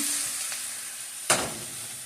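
Lean turkey Salisbury steak patties browning in a pan give off a steady, close sizzle, with one sharper crackling burst partway through and no talking.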